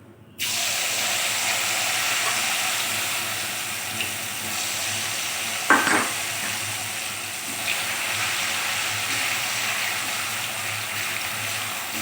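Potato skins frying in a pan, giving a steady, continuous sizzle with a brief louder clatter partway through, close and without talk.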